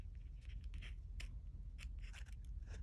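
Scissors snip in quick, close, irregular cuts around a small makeup pouch, the crisp blade clicks standing out over a low background hum with no talking.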